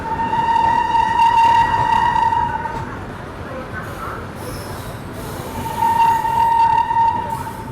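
A train rumbles past during an overtake near Aligarh, heard from aboard the New Delhi–Bihar Sampark Kranti Express. A loud horn sounds at the start, the rumble continues in between, and the horn sounds again near the end.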